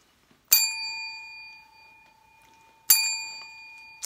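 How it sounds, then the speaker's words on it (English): Two bright notification bell dings, about two seconds apart, each ringing out and slowly fading in an otherwise quiet space. "go ahead and hit that bell. Rock the bell."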